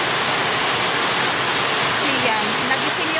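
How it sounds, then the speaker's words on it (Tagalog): Heavy morning rain pours down steadily beside an outdoor faucet, a dense, even hiss that stays close and loud without a break. "ang lakas ng ulan"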